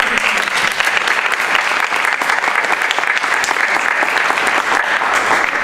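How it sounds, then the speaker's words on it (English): A warm round of applause for three mayoral candidates at a 2014 forum at Oxnard College, continuous dense clapping from a large audience, loud and even throughout. "Let's give them a warm round of applause."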